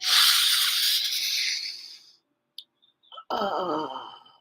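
A deep breath drawn in during a guided breathing exercise, a long loud airy inhale that fades, followed by brief clicks and a breathy exhale-like rush near the end.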